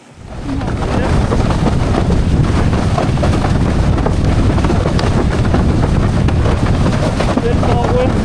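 Strong wind roars steadily across the microphone while windsurfing on an FMX Veloce 122 freeride board, a loud continuous buffeting rush with no pauses.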